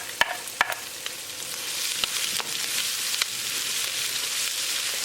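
Ginger and garlic hitting hot oil in a pan on a fast burner, a steady bright sizzle close up, punctuated by a few sharp clicks and scrapes of stirring.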